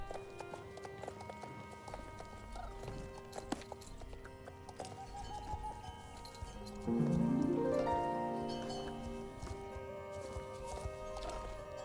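Hooves clip-clop steadily at a walking pace in the video game Star Stable Online, with a horse's whinny partway through and a faint music-like tonal backdrop.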